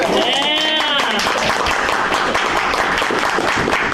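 A board of education special called meeting breaks into dense, steady applause from the room, with a voice sounding over the clapping at the start.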